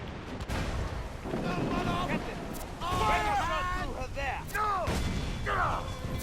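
Ship cannons fire in the video game Assassin's Creed IV Freedom Cry: heavy booms roll out under a steady din of battle, while voices shout orders loudly over the gunfire.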